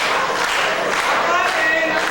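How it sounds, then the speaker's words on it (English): An audience at a 1991 Beth Meyer Sisterhood talent show claps and cheers along to a performance, a dense, continuous wash of hand claps and voices filling the room. "Clapping."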